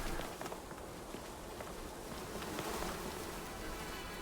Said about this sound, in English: I hear flies buzzing around here.